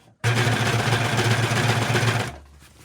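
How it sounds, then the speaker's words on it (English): A serger stitches steadily along a zipper, its teeth running in the groove of the presser foot, a loud, close, even mechanical whir lasting about two seconds before it stops abruptly. "You kind of have to run the teeth down in the groove of the serger foot."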